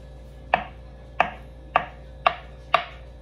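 A knife chops tofu into cubes on a board in five crisp, evenly spaced strokes, each a close, clear knock heard alone.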